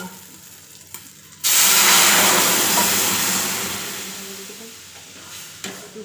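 Chopped onion and chili hit hot oil for a bottle gourd and moong dal, bursting into a loud, steady sizzle that gradually eases off, with faint clatter before and after.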